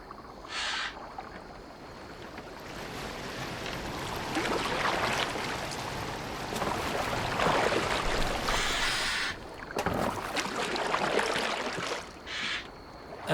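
A longship steered through water in Assassin's Creed Valhalla gives a steady broad wash of water and hull movement, with a few brief bird-like calls near the start and end.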